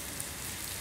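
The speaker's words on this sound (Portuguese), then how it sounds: "Muita chuva mesmo." Heavy rain pours down in Maceió, Alagoas, a dense, even hiss of drops on surfaces filling the short stretch without pause.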